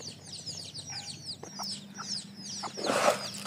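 Domestic desi hens, recovering from a cold, cluck and chirp repeatedly at moderate volume, with a denser, louder flurry of calls near the end.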